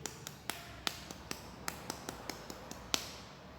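Light four-finger hand clapping in a group exercise session: a string of about fourteen quick, crisp pats at a fairly steady rhythm, close and moderately loud, with no talking over it.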